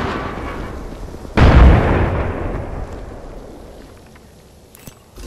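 A frag grenade detonates in a video game firefight: one sharp, loud blast that decays into a long rumbling tail, followed by a faint distant pop near the end.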